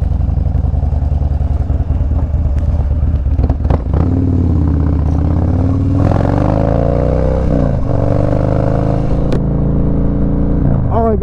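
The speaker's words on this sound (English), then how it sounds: "this bike sounds sick" A custom Harley FXDB motorcycle with a 103 engine and Woods TW-222 cam idles loudly up close, then revs up and down several times with a deep throaty roar.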